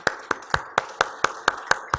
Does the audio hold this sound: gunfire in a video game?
no